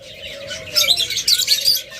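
Pet cockatiels, lovebirds and budgerigars chirp close by in a rapid, bright twittering burst, with a steady whistling tone running beneath.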